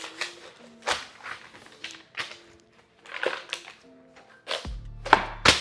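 Knife chopping New York strip steak on a cutting board at home, with irregular close taps and cuts in quick clusters, fairly faint, ending in a louder clatter and thump.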